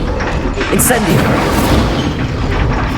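An Incendio fire spell cast in the Hogwarts Legacy video game brings a deep, rumbling whoosh and boom. Battle sounds and vocal shouts overlap it, with a brief bright flash of sound near the start.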